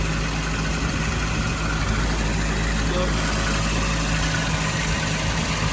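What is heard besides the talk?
car engine running loudly after exhaust manifold repair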